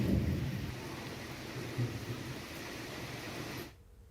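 Heavy monsoon rain pours down in Bihar, a dense steady roar with a low rumble beneath it, before cutting off abruptly near the end.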